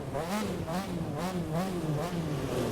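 A drift-edition car engine in The Crew 2 racing game revs continuously, its pitch rising and falling in repeated waves over a steady loud engine drone, with no talking.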